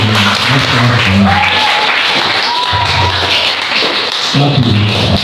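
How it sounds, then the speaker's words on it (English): An audience applauds at an entrepreneurship talk, a dense continuous clapping that stays loud throughout while voices speak over it. "Let's clap for him. Let's clap for him. Let's clap for him."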